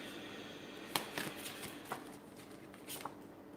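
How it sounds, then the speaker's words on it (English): Tarot cards being shuffled by hand, a quiet run of soft riffling and flicking bursts with a few sharper card slaps, close and intimate against faint room hiss. "Let me give that a good shuffle"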